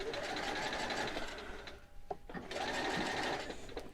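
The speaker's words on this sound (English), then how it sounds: "But I feel like I'm sewing through additional layers." Steady close whir of a sewing machine stitching in a replacement zipper through thick layers, running in two bursts with a short pause between.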